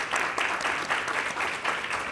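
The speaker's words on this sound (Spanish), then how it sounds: "Un aplauso para Daniel." Audience applause for a speaker at a health conference, brisk continuous clapping from a crowd with slight rhythmic swells, moderately loud and without talk.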